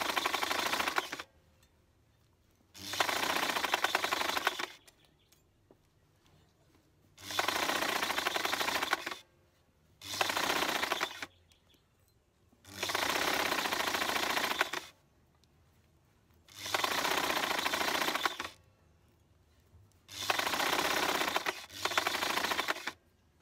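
A sewing machine runs in repeated bursts of about two seconds each, separated by short quiet pauses, with a steady stop-start rhythm, close and moderately loud, with no talking.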